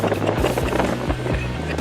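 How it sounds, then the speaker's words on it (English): Outdoor wind buffets the microphone in the Smoky Mountains, a loud continuous low rumble with gusty surges throughout and no talking. "of course the wind starts up."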